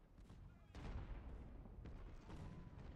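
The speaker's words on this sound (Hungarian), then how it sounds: "Marha jó az ágyúzás" Cannon and artillery fire in the Civil War strategy game Ultimate General: Civil War, with two heavy booming volleys rolling over a steady rumble of battle.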